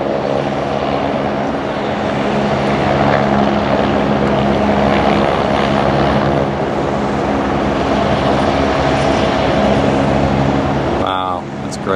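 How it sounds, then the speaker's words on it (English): A low-flying helicopter over downtown Vancouver gives a loud, steady engine and rotor drone that fills the whole stretch, with a short high chirp near the end. "that helicopter's low."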